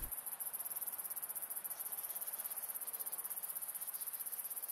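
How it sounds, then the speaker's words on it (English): A swarm of fairies from the video game Heart of the Woods, rendered as a steady, high insect-like buzzing and chirring that pulses continuously, moderately loud and alone, with no voices. "the buzzing gets closer"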